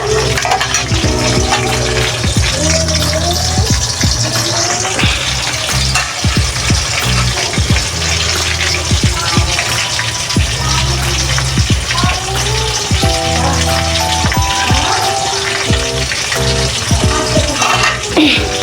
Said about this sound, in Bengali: তাই আমি গোটা গোটা করে একটু ভেজে নেবো মাছগুলা।